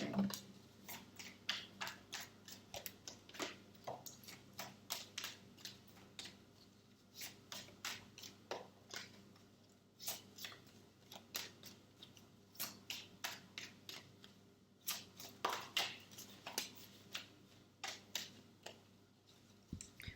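Tarot cards shuffled by hand, quiet rapid riffling clicks in bursts with short pauses between, continuing steadily with no speech.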